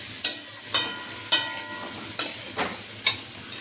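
Spiced katal fish curry is sautéed in a pan with a spatula, giving six sharp scraping strokes at an uneven rhythm over a soft sizzle, close and moderately loud.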